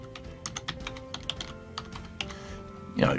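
Fingers type a file name on a computer keyboard in a quick, uneven run of light key clicks, close and fairly quiet, ending with a louder clack as a key is struck firmly.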